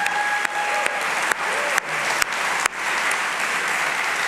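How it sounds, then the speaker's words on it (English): Audience applause at the 2025 Kofi Annan NextGen Democracy Prize ceremony for young prize winners, steady dense clapping throughout, with a few sharp louder claps and a brief faint tone near the start. "So I'd like us to give them a round of applause."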